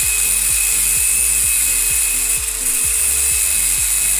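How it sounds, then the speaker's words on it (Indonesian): An angle grinder cuts slowly through iron stock for a manual bending tool, producing a loud, constant high whine with a rhythmic grinding pulse and no speech. "Kita pelan-pelan aja, jangan terlalu ditekan, biarlah gerinda ini masuk sendiri."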